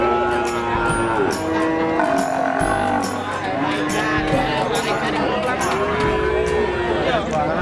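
Cattle, cows with young calves, moo loudly and repeatedly at a cattle market in Pasuruan, with overlapping calls near and farther off over a busy crowd murmur and people talking.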